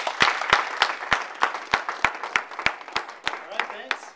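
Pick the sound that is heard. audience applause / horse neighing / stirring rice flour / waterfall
audience applause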